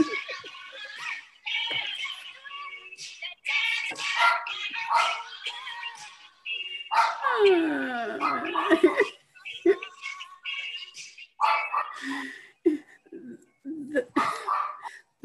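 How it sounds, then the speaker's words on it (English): Dog barking during an indoor NCJW installation event, short barks and whimpers in the background under near-continuous speech from people talking. "the dog barking in the background"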